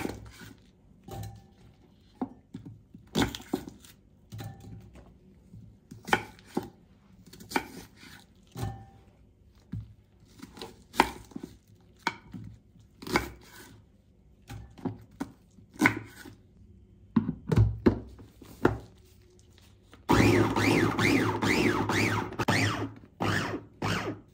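Knife chopping ingredients by hand on a board, a steady run of close, sharp thunks in irregular bursts, ending in a louder, denser stretch of rapid cutting.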